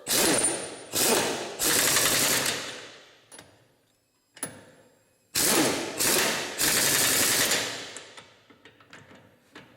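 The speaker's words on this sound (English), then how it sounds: "I have a repaired impact wrench. So let's find out." A repaired Ingersoll Rand 1-inch pneumatic impact wrench fires in several loud, close bursts of rapid hammering, each fading as it winds down. Short air hisses and pauses fall between the runs.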